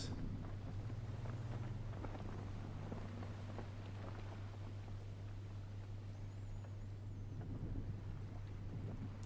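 A boat under sail crossing open sea in the survival game Stranded Deep: soft, continuous wind and water wash over a low steady hum, calm and even throughout with no voices.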